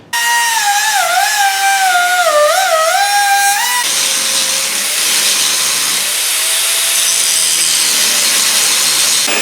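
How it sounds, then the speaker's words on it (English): An angle grinder cuts through a washer on a bolt shank, its pitch sweeping up and down under load for a few seconds, then the cut gives way to a steady, loud grinding hiss that continues to the end. "So I'm just going to cut it off here and grind it off."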